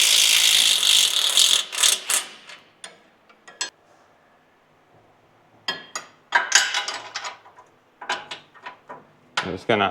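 A ratchet undoes a nut on a Toyota Hilux front differential: bursts of sharp, rapid clicking come close and loud, separated by quiet pauses, with some metallic handling sounds between strokes.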